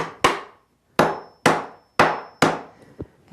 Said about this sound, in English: And then I'm just going to take a hammer